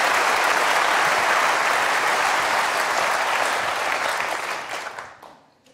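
A television studio audience gives loud, continuous applause for a talk about the brain, the clapping holding steady before tapering off and fading into silence.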